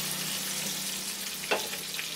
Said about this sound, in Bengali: আলুগুলোকে বাদামি করে ভেজে নিচ্ছি আমি।